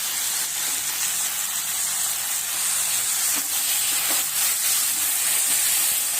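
Chickpea greens (harbhara bhaji) stirred and sautéed in a hot pan give a steady, loud hiss and sizzle with faint scraping, continuous throughout.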